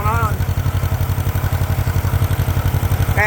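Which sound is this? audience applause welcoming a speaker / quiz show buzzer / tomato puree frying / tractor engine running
tractor engine running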